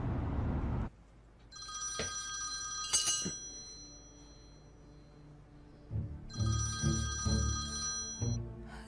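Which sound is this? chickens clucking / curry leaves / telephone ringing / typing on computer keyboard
telephone ringing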